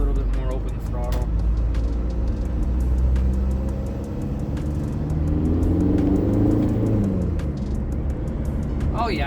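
A TDI diesel car accelerates under more open throttle, a continuous low rumbling engine drone rising as the car pulls, heard from inside with someone talking over it.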